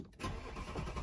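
An Audi Q7 engine cranks and catches after a short silence, then settles into a loud, steady running rumble close by.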